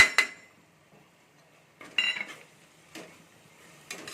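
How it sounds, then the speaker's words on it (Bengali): A spatula stirs spices into fried ginger and garlic in a pan for a potato, tomato and pea curry. It makes four short scraping clatters, spaced about a second apart, with quiet gaps between them and no talk. "মশলাগুলো এর সাথে ভালো করে ঘেটে নেবো"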